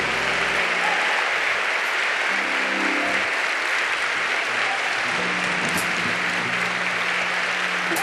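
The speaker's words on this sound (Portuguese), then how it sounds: "dá uma salva de palmas para ele" Church youth congregation applauding steadily throughout, a dense wash of many hands clapping at close range with faint voices beneath.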